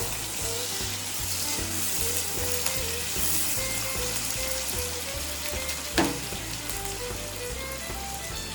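Raw banana and sweet potato pieces sizzle steadily in a pan for a curry, a dense, close frying hiss that stays even throughout, with a brief clatter of stirring midway.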